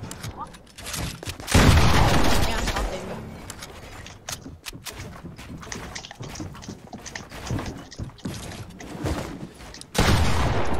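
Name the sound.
gunfire in a video game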